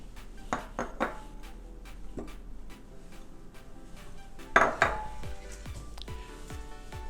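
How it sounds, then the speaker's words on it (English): Cheeses being combined in a microwave-safe bowl for a keto three-cheese fathead pizza dough, with scattered clinks and knocks of utensil against bowl, a denser cluster of clatter midway, and quiet kitchen background. "the first thing we need to do is combine the cheeses"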